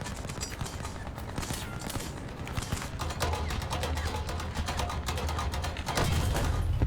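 A Pz. IV F2 tank in War Thunder takes fire from several sides at once, with rapid, dense bursts of gunfire rattling almost without pause, growing heavier toward the end.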